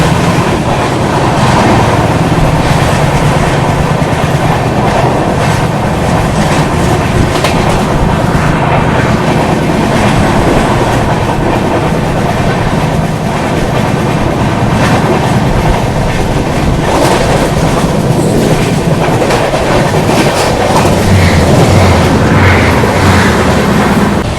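The Darshan Express rolls through Udhna Junction with a loud, steady roar and rhythmic clickety-clack of wheels over rail joints, sustained and close throughout with no voices.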